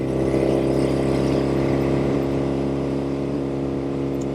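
A 1972 Norton 750 Commando Combat motorcycle in top gear gives a steady, loud engine drone that holds an even, continuous note throughout.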